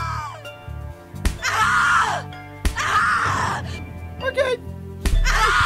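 A woman in the video game The Cat Lady lets out several long, loud, anguished screams separated by sharp thuds and short groans.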